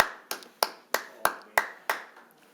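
Seven sharp, evenly spaced claps ring out one by one at a city council meeting, each crisp slap decaying quickly in a quiet room.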